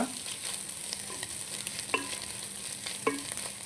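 Fish pieces and carrot frying in a pan give a steady, soft sizzle with a few light clicks of a spatula against the metal. The sound is close and fairly quiet, and nobody speaks.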